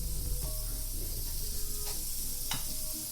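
Sausages sizzle in a frying pan with a steady, close crackling hiss, dotted with a few sharper pops and spits and no talk.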